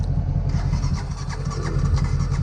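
A truck with a blown engine cranks with a rapid, rhythmic churning, loud and close, sputtering without catching.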